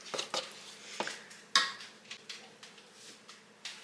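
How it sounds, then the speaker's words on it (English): Chocolate morsels being stirred in a pot to melt for Butterfinger fudge: a spoon scrapes and knocks against the pot in irregular, fairly close clinks and taps, with no talking. "Start getting that stirred around so those chocolate morsels can"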